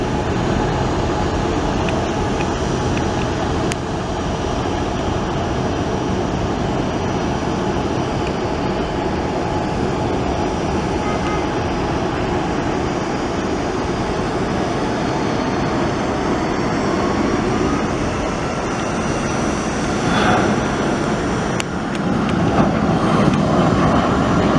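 A United airliner with large upturned winglets passes by, a loud sustained jet engine roar that holds steady for the whole stretch and swells slightly near the end, with no talking.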